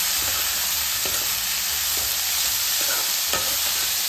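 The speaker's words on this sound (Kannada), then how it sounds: "ಹಾಕ್ಬಿಟ್ಟು ಚೆಂದಾಗಿ ಮಸಾಲೆ ಎಲ್ಲ ಕಾಳಿಗೆ ಹಂಗೆ ಮಿಕ್ಸ್ ಮಾಡ್ತೇವೆ" Moth bean sprouts in North Karnataka style sizzle and fry in a pan while masala is stirred through them, with steady close sizzling and occasional scrapes and knocks of the spoon against the pan.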